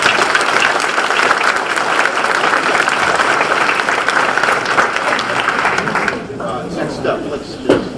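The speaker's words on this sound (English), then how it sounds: "I want to give her a round of applause." An audience claps warmly at a town hall meeting, a dense, loud round of applause that lasts about six seconds and then fades into a quieter room with a few knocks.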